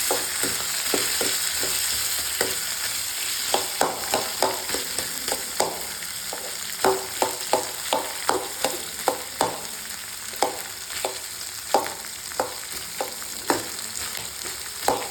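Potatoes frying in hot oil in a home kitchen, a steady sizzle broken by a long run of regular scraping stirs, close and clear with no talk.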